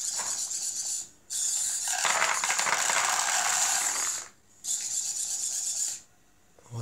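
Arduino ESP8266 pet feeder mechanism running alone: a steady close-up grinding, rasping whir in three bursts of roughly one, three and one and a half seconds, separated by short pauses.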